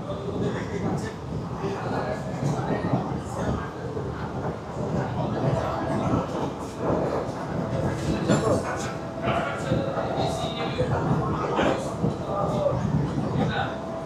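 A Sealdah–Bangaon AC local electric train runs at speed, giving a loud, steady rumble with wheel clatter and occasional squeal throughout, while voices talk under it.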